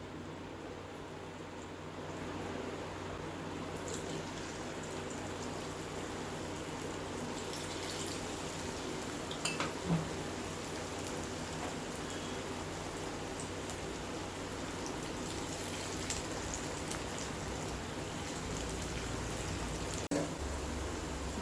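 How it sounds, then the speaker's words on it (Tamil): Battered cauliflower for gobi manchurian frying in hot oil, a steady soft hiss and crackle with occasional louder pops, continuous throughout and free of talk. "எண்ணெய் சூடாகிடுச்சுங்க. எண்ணெயில் போட்டு பொரிக்க ஆரம்பிச்சிடலாம்."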